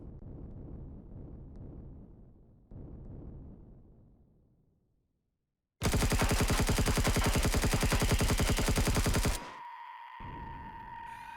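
Supporting gunfire in the sci-fi survival game Empyrion Galactic Survival, heard as a loud, dense burst of rapid automatic fire lasting several seconds. Quieter rumbling game ambience comes before it, and a lower drone follows.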